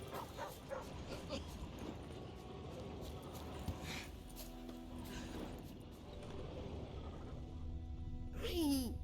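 Hussar, a dog in The Witcher video game, whimpers and yips in short bursts over layered game ambience and music, ending with a louder, rising whine near the close.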